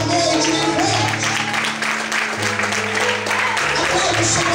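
A church congregation claps together in worship, a dense continuous roar of hands under a loud amplified voice speaking over it, with sustained music-like tones running through the background.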